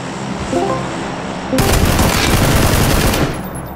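Loud automatic gunfire in PlayerUnknown's Battlegrounds erupts abruptly after a quieter stretch and keeps hammering in a dense, sustained burst for about two seconds before cutting off.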